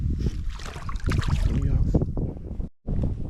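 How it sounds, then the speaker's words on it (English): Wind gusting across a lake during winter bass fishing near a tree-lined bank, a steady close rush buffeting the microphone with water and boat noise beneath, briefly cutting out near the end. "Ooh, that wind pushing, y'all."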